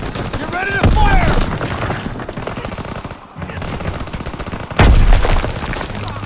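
Gunfire and heavy automatic fire fill a Call of Duty WWII battle mission, loud and continuous with booming impacts, under shouted voices.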